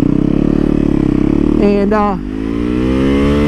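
Motorcycle engine rumbling steadily, then revving up hard as the throttle opens partway through, with a rising pitch sweep before settling back to a strong drone; someone talks over it throughout.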